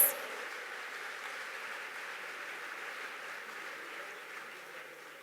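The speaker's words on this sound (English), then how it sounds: "Let's give them a warmer round of applause." A large audience at an African Union youth declaration event gives a soft, sustained round of applause, a diffuse and distant wash of clapping that slowly fades.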